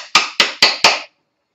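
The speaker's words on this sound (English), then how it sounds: "Tap that in there with a hammer" Four sharp metal-on-wood hammer taps drive a sliding wedge into place to lock a workpiece, evenly spaced about a quarter second apart, close and loud, then silence.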